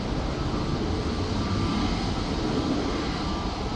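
A Boeing 737-800 at Manchester Airport during stormy weather gives a continuous low, heavy engine roar that holds steady under broadband wind-like rumble, with no speech.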